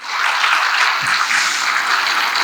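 Audience applause at a charismatic Catholic monthly formation gathering, a steady dense wash of clapping from a crowd that holds evenly for a couple of seconds without voices.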